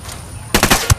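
Rapid burst of automatic gunfire in the video game Ghost Recon Wildlands, several sharp close shots in quick succession lasting about half a second, ending on a heavier final report.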